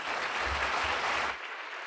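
An audience at a forum applauds to welcome speaker Terry Virts. The clapping is full and steady, then thins out sharply near the end.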